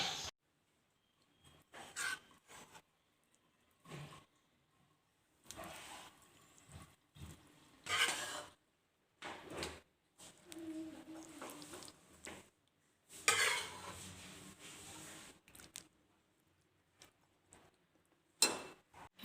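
Chana dal is served onto a plate in a home kitchen, with scattered short clinks and taps of dishes and cutlery coming in sparse, irregular bursts separated by near silence.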